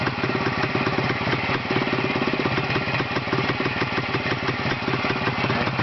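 A car engine taken out of the car and run on a makeshift stand at raised revs, giving a loud, close, steady chugging rhythm that holds evenly throughout with no talk.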